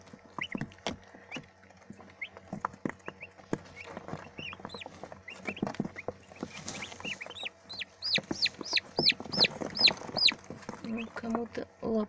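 High, rapid peeping from a group of turkey poults, a busy chorus of shrill chirps that grows louder and denser, with light scratching and pattering.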